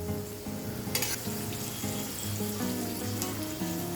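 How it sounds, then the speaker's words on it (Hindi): Onion and garlic paste frying in a pan on medium flame for an Indian taro-leaf roll curry, a steady crackling sizzle with occasional sharp bursts and stirring scrapes, close and alone. "अब इसमें हम लहसुन का आधा चम्मच पेस्ट डालते हैं।"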